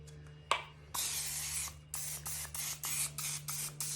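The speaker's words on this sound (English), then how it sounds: "I'm gonna spray my pan at this point." Cooking spray hisses from a can onto a pan: one long spray followed by a string of short, evenly spaced bursts, close and crisp.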